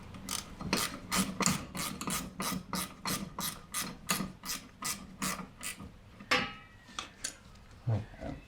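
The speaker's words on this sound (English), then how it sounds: "I'll try and get the nut back on." A ratchet wrench tightening a nut on a Citroen 2CV, clicking in a fast, steady run of sharp ticks for several seconds before a few slower, scraping turns near the end.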